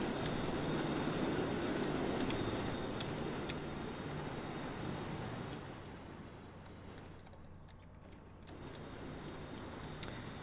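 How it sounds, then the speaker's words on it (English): Trains rolling into a capital station in the railway simulation game Transport Fever 2: a low, steady rumble of wagons with faint ticking clicks, fading slightly midway before swelling again, with no talk. "Trains arriving into the capital."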